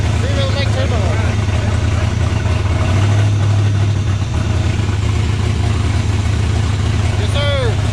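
A Ford Mustang Foxbody with a smoothed engine bay runs up close, its engine rumbling steadily at idle with a brief rev swell midway, while people talk over it.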